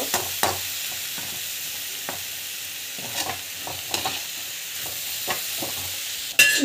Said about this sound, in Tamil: நல்லா நல்லா வதக்கிட்டுக்கோங்க.